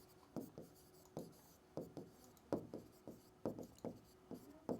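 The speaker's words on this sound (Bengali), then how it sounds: "রাশির সংজ্ঞা লিখি।" A pen scratches a definition onto paper by hand in a physics lesson, in quick close strokes that come in short rhythmic bursts, quiet but distinct and with no talk.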